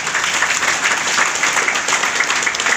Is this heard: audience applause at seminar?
yes